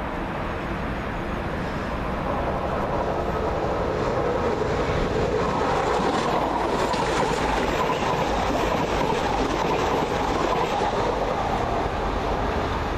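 A London Midland passenger train passes through Small Heath station, a loud, sustained rumble of wheels and rails holding steady for the whole stretch, close by and with no voices over it.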